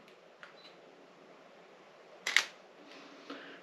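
A single camera shutter clicks sharply once during a photo shoot with shadows, preceded by faint small handling clicks in an otherwise quiet room.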